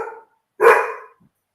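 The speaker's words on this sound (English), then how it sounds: "No, that's my dog." A dog gives a short bark, then a second louder, drawn-out bark after a brief gap, close and clear against an otherwise silent background.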